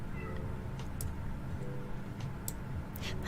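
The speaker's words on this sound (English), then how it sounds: "Cause I heard like a sad meow." A house cat meows plaintively a few times, faint and somewhat distant, over a low steady background hum.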